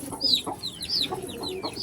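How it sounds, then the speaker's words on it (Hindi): A sick hen drinking water among pigeons and other chickens gives a run of close, soft clucks and chirpy calls, about five or six in quick, uneven succession. "ये जो हमारी मुर्गी है जिसको सोकड़ा हुआ है वो भी पानी पी रही है।"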